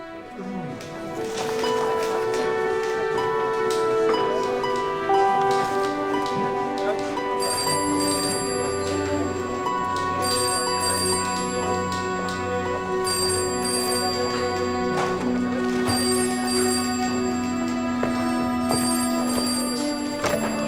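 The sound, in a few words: telephone ringing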